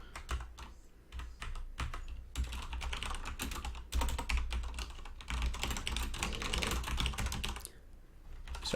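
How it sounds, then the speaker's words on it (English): Fast typing on a computer keyboard during a live coding session, close and continuous key clatter with short pauses, no talking over it. "Sorry if my typing is there."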